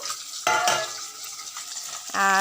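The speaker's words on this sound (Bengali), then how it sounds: "মাছটা ভাজা চলছে মাছটা" Fish frying in a pan on a home kitchen stove makes a steady sizzle, with short clinks and scrapes of stirring and a brief tonal clang near the end.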